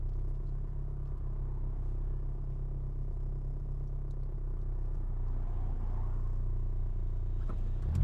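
An MG Maestro Turbo engine drones steadily while the car drives at low speed, a constant deep rumble with mild mechanical clatter heard from inside the cabin, with a brief knock near the end.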